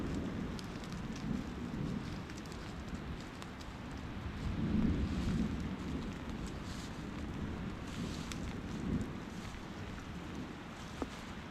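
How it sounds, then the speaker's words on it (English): Light rain falls on a forested hiking trail under a canopy. It makes a faint, steady patter with a low rumble underneath and occasional sharper drips, quiet and continuous, with no voices. "As I'm taking a breather here, the rain is coming in. It's light, but it's coming down."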